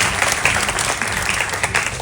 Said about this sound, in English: give them a round of applause for the work that they've done